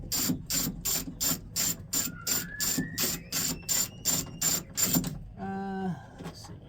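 Ratchet with an 11mm socket loosening a bolt on a 1997 Ford F250 door latch: about a dozen rapid, evenly spaced clicks close up, then a brief ringing metallic clatter as the bolt comes free.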